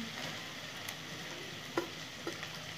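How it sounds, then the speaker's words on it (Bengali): Onions dropped into hot oil in a pressure cooker fry with a soft continuous sizzle, joined by a couple of faint utensil clinks, no voices. "পেঁয়াজ দিয়ে দেবো"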